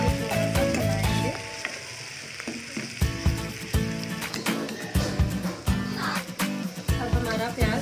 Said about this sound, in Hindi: फ्लावर, प्याज डालेंगे। गोल्डन ब्राउन होने तक बनाएंगे।